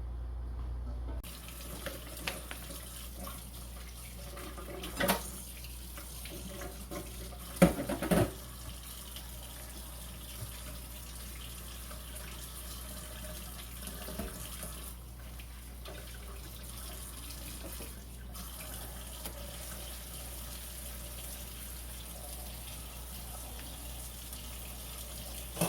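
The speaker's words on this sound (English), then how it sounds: "So once this is at a rolling boil," Water bath canner at a rolling boil while canning strawberries: a steady, even hiss and bubbling roar that continues without a break, with a few faint knocks over it.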